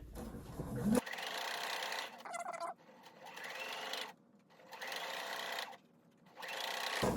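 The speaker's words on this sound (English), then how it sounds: "Take your time sewing around the curve." Sewing machine stitching around a curve in quilted fabric scraps for a tulip glass case, running in several steady bursts with brief pauses between.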